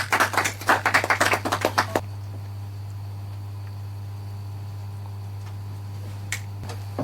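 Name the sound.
audience clapping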